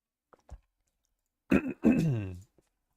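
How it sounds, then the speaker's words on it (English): A person clears their throat once with a short rasping burst, preceded by a couple of faint clicks, in an otherwise quiet room. "I want to get a proper cough instead of just clearing my throat constantly"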